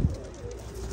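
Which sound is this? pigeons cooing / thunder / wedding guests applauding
pigeons cooing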